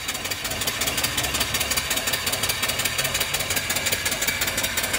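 A small mill-type live steam engine runs off a 12-inch boiler with a fast, even rhythmic chuffing and knocking beat, close and steady, with no voices.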